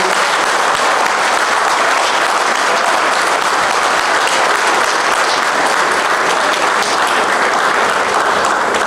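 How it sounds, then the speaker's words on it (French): Loud, sustained applause from a large audience fills a gala evening marking a Montreal community organization's tenth anniversary, steady and dense throughout with no speech over it. "donner vraiment l'applaudissement mérité à Vincent Savy."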